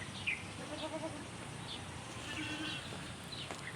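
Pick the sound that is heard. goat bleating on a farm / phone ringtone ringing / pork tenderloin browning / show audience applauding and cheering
goat bleating on a farm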